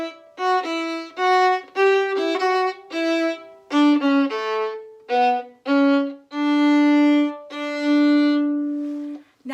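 A solo violin plays the bouncy folk tune "Yankee Doodle", with clear bowed notes in short phrases that end on a longer held tone. No voices are heard.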